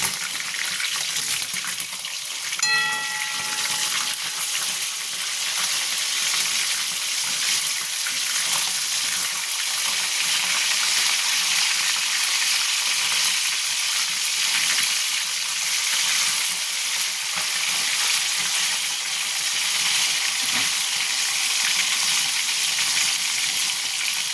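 Pieces of snakehead fish fry in a pan with a steady, dense sizzle that holds at an even level throughout, close and fairly loud, with no talking.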